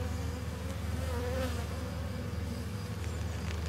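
Honeybees from a small, reluctant swarm buzz around a hive frame whose corner is loaded with nectar, a close, steady humming drone with low pulsing tones, with no voices over it.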